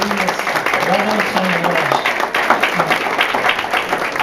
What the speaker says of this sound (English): Please give a round of applause to joining us, Radhanath